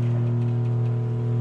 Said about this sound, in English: That noise you hear in there is the water maker.